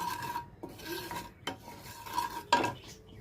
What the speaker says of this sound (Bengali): এবার দেখুন মশলাটা কষবো।